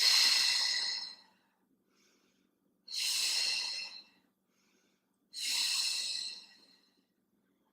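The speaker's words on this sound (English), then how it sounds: "exhaling through the mouth" Three long, strong breaths pushed out through the mouth during a Pilates corkscrew exercise, each a breathy whoosh lasting about a second, separated by quiet pauses, close to the microphone.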